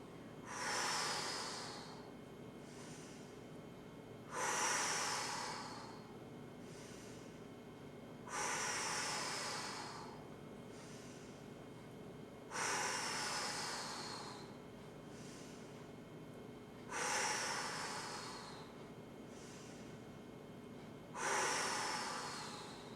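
Six slow, forceful in-breaths through the nose and mouth, about one every four seconds, each a broad airy rush with quiet pauses between, during a breathing exercise done with the tongue held flat.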